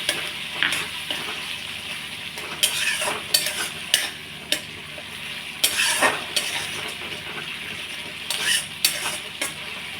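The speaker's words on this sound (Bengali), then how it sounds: "দিয়ে এবার আমি মশলাটা একটু নাড়িয়ে চাড়িয়ে নেব।" Ginger, garlic and chili masala paste, loosened with a little water, is stirred in a hot frying pan for a Bengali doi-kathla dish. Scraping spatula strokes come in irregular bursts over a steady close sizzle, with no talking.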